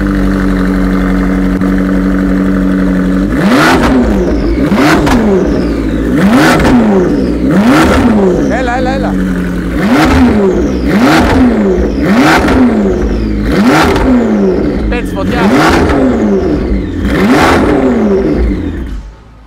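A McLaren sports car sits idling loudly up close, then its engine is blipped again and again in a steady rhythm of about a dozen sharp revs, each snarling up and falling back to idle.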